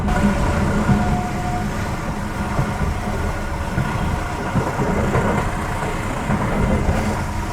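Senja Utama Solo passenger train pulling out of Kroya station at night, heard as a steady, loud, close rumble of engine and rolling wheels that holds evenly for the whole stretch, with no voices.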